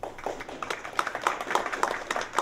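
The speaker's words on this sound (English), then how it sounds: "May we have one more round of applause," Audience applause after a Bharatanatyam classical Indian dance performance at a Swami Vivekananda anniversary ceremony, a modest, steady patter of hand claps from a smallish crowd with a few sharper individual claps standing out.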